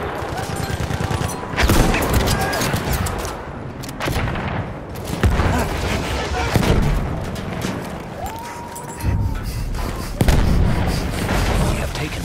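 Battlefield 1 battle: bursts of machine gun fire mixed with rifle shots and explosions, dense and loud, with voices shouting over the gunfire.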